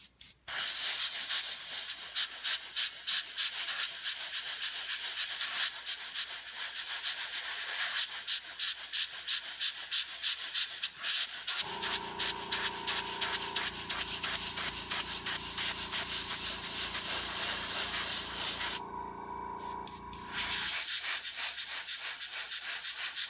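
An airbrush sprays paint onto the hooves of a model horse, a continuous close hiss that shifts into a steadier, louder tone midway, breaks off briefly, then resumes.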